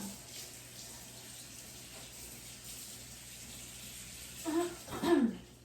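Tap water runs steadily into a soapy bowl in a kitchen sink during hot pepper fermenting prep, a constant close hiss with brief louder splashing near the end.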